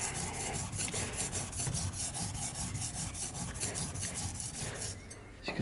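A plane blade's back is polished on an oiled sharpening stone with a rapid, steady back-and-forth rasping rub, close and continuous for several seconds.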